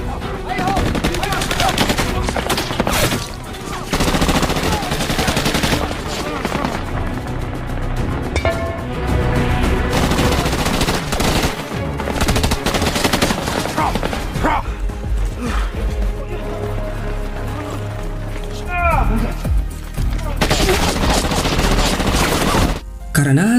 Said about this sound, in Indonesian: Karena Hansen dan Lopez tertembak